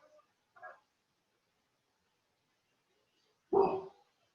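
A pet dog named Lady barks indoors in a quiet room. There are two faint short yips, then one louder, fuller bark a few seconds later.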